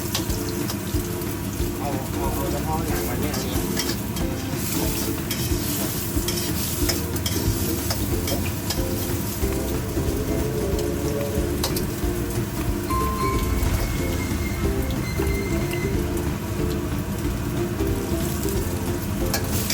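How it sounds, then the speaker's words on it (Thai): Pork skin plunged into hot oil for crispy pork, a loud, dense, continuous bubbling sizzle that fills the whole stretch, with faint voices in the background. "จุ่มลงไปเลย แช่ลงไปเพราะตอนนี้น้ำมันมันร้อนแล้ว"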